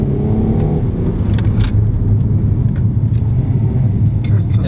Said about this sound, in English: So listen to how quick this gear shift is.